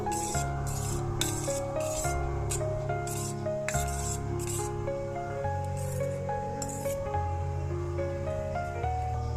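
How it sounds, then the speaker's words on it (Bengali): A spoon stirs rice flour into swollen semolina batter in a bowl, making rhythmic wet rubbing and scraping strokes with occasional clinks against the bowl over soft background music. "তো চালের গুঁড়োটা দিয়ে একটু নেড়ে নেব"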